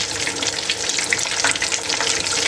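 Pieces of KFC-style fried chicken, the last batch, bubbling in hot oil: a loud, close, vigorous crackle and spatter that stays busy and uneven throughout, with no talking.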